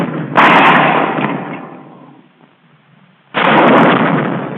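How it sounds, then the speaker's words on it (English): An M1 bazooka rocket launcher from a 1943 training demonstration fires as two loud, sharp blasts about three seconds apart. The first fades slowly into a rumbling tail, and the second stays loud to the end. "When the rocket fires, the launcher doesn't jump back."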